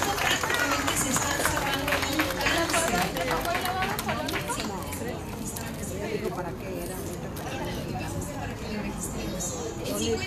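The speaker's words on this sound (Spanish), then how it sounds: "Aplauso." An audience applauds at the inauguration of a naturism centre, sustained dense clapping mixed with crowd chatter and voices, loud and continuous.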